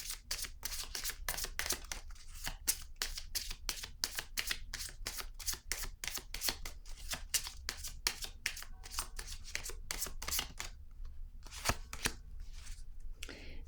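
Tarot cards being cut and laid down one by one during a reading: a long run of crisp, rapid flicks and slaps, close and steady, thinning toward the end, with no talk over them.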